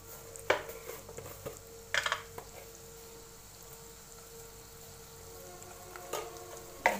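Onion frying in butter in a thick pan gives a low, continuous sizzle, broken by a few sharp clinks and scrapes of a spoon against the pan.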